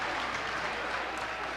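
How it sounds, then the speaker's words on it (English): A crowd at a high school wrestling match cheers and applauds loudly and steadily, a dense unbroken roar of clapping and shouting that fills the whole short stretch. "You can hear the crowd letting him know about it."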